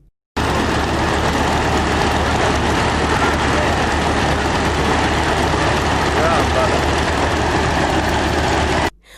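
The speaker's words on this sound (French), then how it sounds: "Le vol KHKR 45AR, hélice battante, ronronne ici à la Patte d'Oie dans l'arrondissement 12 de Ouagadougou." A homemade helicopter engine idles on the ground in the Patte d'Oie district of Ouagadougou before takeoff, a loud, continuous low drone with a steady rumble that starts abruptly and runs unbroken for several seconds before cutting off.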